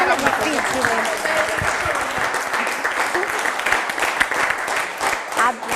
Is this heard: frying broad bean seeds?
no